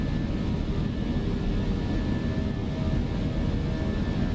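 An airliner's engines roar steadily while climbing out from KJFK in a flight simulator, a constant broad rumble with a faint whine above it and no breaks.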